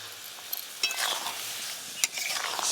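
A spoon stirs thickening sugar syrup for a whole olive pickle, giving soft scraping with a few sharp clinks against the pot over a faint bubbling hiss, quiet and close.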